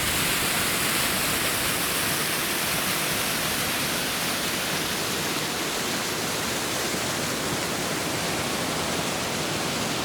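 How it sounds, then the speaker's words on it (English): A mountain waterfall near Upper Boy Scout Lake below Mount Russell, cutting into a snowbank, roars as a dense, constant wash of white-noise rushing water, loud and unbroken throughout. "Another waterfall."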